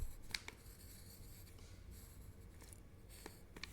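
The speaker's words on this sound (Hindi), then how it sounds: "तो अब हम क्या लिखेंगे यहाँ?" A pen or chalk scratches across a board in a quiet classroom lesson, faint short strokes with gaps between them and a small tap at the end, no talking.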